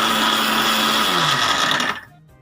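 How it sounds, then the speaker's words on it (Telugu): A mixer grinder jar whirs loudly, powdering sugar for rava laddu in one steady, high-pitched grinding burst that cuts off abruptly and leaves near silence. "ఇప్పుడు ఇదే మిక్సీ జార్లో ఒక కప్పు రవ్వకి ఒక కప్పు పంచదార పౌడర్ చేసుకోవాలి"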